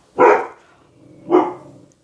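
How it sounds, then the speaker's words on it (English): A dog barks twice indoors, two loud, close woofs about a second apart with a short fading tail after each and no talk over them. "My dog started barking."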